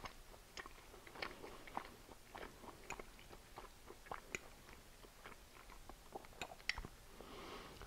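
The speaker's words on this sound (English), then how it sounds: "Sorry, I have to chew." Close, wet chewing and biting of mushrooms in gorgonzola butter, a steady run of soft crunchy mouth clicks and smacks over about eight seconds, fairly quiet with no talking.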